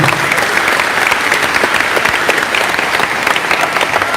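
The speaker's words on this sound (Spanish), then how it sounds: "Un aplauso para el hermano." A church congregation applauds a brother, steady and dense hand clapping at an even level throughout without pause.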